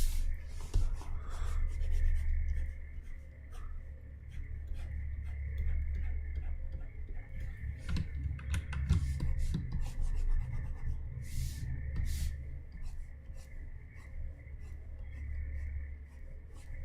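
Hand drawing on paper with a pen or pencil, steady scratchy rubbing and short ticking strokes that continue for over fifteen seconds over a low background hum.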